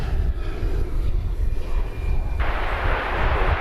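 A steady jet engine roar from an airliner departing DFW Airport at night, heard from a distance as a continuous broadband rumble that brightens and swells partway through.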